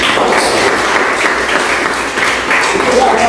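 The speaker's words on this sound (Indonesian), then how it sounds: "tepuk tangan buat teman kalian Dedi." Classroom applause for a student who has just answered, a steady dense wash of clapping from many pupils filling the whole stretch at close range.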